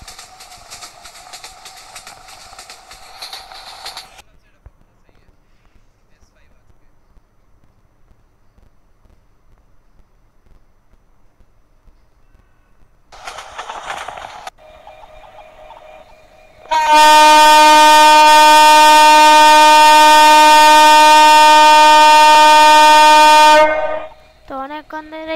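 A Subarna Express train in the Train Simulator Bangladesh game runs at speed, with short bursts of rolling noise that build into a loud, sustained horn blast lasting several seconds, then drop back to a quieter rumble.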